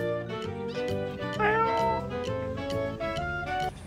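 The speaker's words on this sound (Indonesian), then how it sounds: "kakak dapat anak kucing nih" A kitten meows repeatedly in high, thin cries, close by over a steady background hum.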